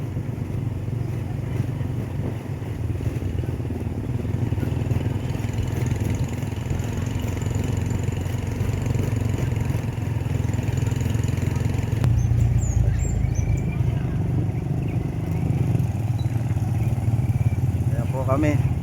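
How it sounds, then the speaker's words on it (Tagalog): Motorcycle with a sidecar running steadily, its low mid-pitched engine drone continuous and fairly close throughout, with passengers talking over it. "Kasi tumatakbo yung motor."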